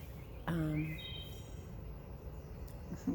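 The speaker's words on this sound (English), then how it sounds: "the sound of a beautiful bird, the sunshine in the morning, the greening of spring" A bird sings outdoors on a spring morning, giving one short burst of clear whistled notes followed by fainter high chirps over quiet background ambience.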